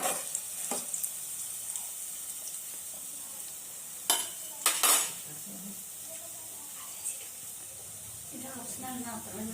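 Dry red chillies frying in oil give a low crackling sizzle, broken by a few sharp metallic clinks of a spoon against the pan.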